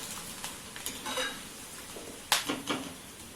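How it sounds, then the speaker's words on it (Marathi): Homemade sago pearls (sabudana) fry in very hot oil with a faint, steady sizzle, broken by soft clinks and scrapes from stirring in the pan. "तेल असं छान तापलं म्हणजे साबुदाणा हा पूर्ण असा छान फुलतो कच्चा राहत नाही"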